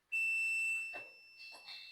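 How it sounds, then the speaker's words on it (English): A multimeter gives a sustained high-pitched continuity beep while checking a wire's ground connection on a Nissan D23 diesel, starting abruptly and holding steady, with faint handling noises underneath. "you can probably hear the beep"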